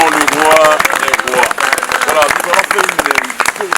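Funeral congregation in Lyon breaking into loud, sustained applause and cheering like a football stadium crowd, dense clapping with shouting voices throughout.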